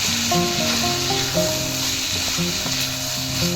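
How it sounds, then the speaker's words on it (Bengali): Tomatoes stirred in a hot pan for a fish and taro curry, with a steady loud sizzle and scraping stirs throughout, no talk. "এবার অ্যাড করবো টমেটো, দিয়ে এটা নেড়ে চেড়ে"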